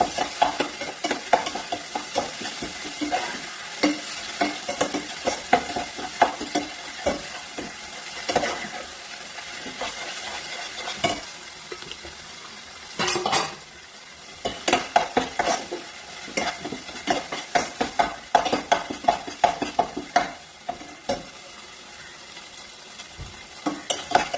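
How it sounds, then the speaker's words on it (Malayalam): Goat brain being stirred as it fries in a pan, with repeated scraping and clattering of the spoon over a continuous sizzle, close and uneven in loudness, with no one talking. "തലച്ചോറ് ഇട്ട് കൊടുത്തതിന് ശേഷം നന്നായിട്ട് മിക്സ് ചെയ്യാം."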